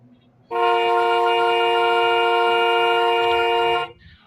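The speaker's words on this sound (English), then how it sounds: "Why is he honking?" A single long, loud horn blast holds steady for about three seconds, rich and brassy, then cuts off abruptly.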